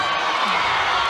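Crowd at a women's college volleyball match between Nebraska and South Dakota State cheers steadily after a jump serve, a loud, dense wash of voices without distinct peaks.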